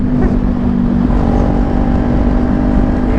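A Kawasaki Ninja 400 two-cylinder sport motorcycle being ridden: a loud, close, steady engine drone with a deep rumble and a constant tone, running evenly without any talk.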